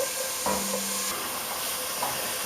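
Onions cooking in a pan over medium heat give a soft, steady sizzle and hiss, with a brief stirring scrape partway through and no voices.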